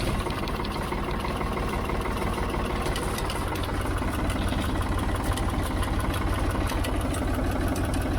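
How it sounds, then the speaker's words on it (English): Ford 3000 tractor diesel engine idling close by with a slight flicker at idle, a steady low chugging rumble with rapid regular knocks and clatter, loud and continuous without speech. "Let me just sit you down so I can start the tractor."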